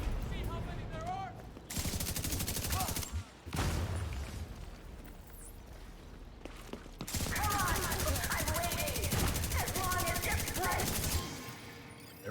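Light machine gun fire in the Division 2 video game, long sustained bursts of rapid gunshots with short pauses between them and someone talking over the shooting.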